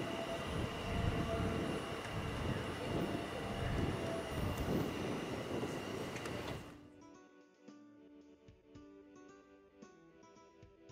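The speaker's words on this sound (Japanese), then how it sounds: "今回はこの急勾配区間を走る列車をご覧いただきたいと思います。" A Zürich S10 commuter train climbs a 79 per mille slope, and its steady, loud rolling rumble runs for several seconds before it cuts to a quieter, thinner tone.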